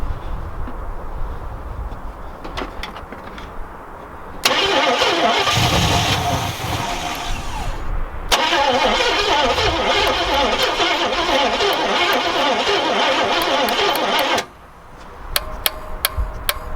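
An Oldsmobile Cutlass left sitting for 15 years cranks repeatedly in two long loud bursts of starter whirring. The engine fails to catch, with quieter clicks and handling noises before and after.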